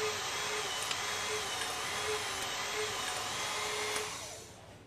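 Hydraulic pump of a WREN torque wrench droning steadily as pressure builds, a dense whining hum with faint periodic pulses, close and continuous before tapering off near the end.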